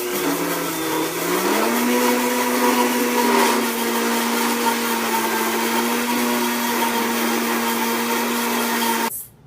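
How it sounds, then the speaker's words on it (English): Blender running at high speed while oil is slowly poured in to make mayonnaise, a loud steady whirring motor whine that shifts up in pitch early on, then cuts off abruptly. "So you have to slowly pour the oil in as the blender is on a high speed."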